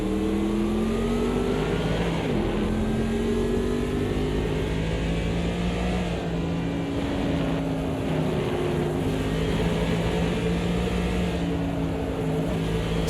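Classic NASCAR stock cars roar around the track in the racing game Automobilista 2, several loud engines droning together with rising and falling pitch as they accelerate and lift, continuous and close, with no speech.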